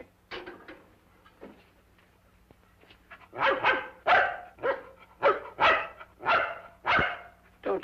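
A dog barks repeatedly in an old 1950 film scene, a few scattered yips early on, then a loud run of close, evenly spaced barks over a low background hum.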